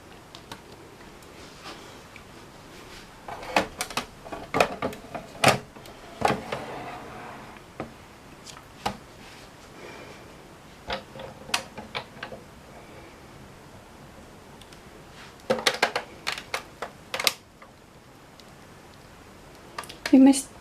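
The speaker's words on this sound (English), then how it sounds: "And then slowly wind it through your die cutting machine." Cardstock with heat-activated foil being slowly cranked through a die cutting machine, giving irregular clicks, ticks and soft crunching bursts close up, with quiet gaps between.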